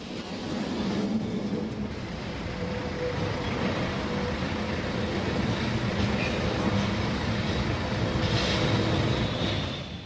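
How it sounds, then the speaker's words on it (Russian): A Lisbon tram rumbles and grinds steadily as it climbs uphill, with metallic squeals and rattling rising over a continuous low drone. "Для экскурсии в Шиану вагончики снова должны подниматься в гору."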